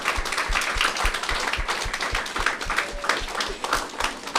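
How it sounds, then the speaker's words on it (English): Applause from an audience at a school community event for a football program, many hands clapping steadily with a few sharper individual claps standing out, moderately loud and continuous. "can you please help me in giving these 3 a special round of applause for Thane."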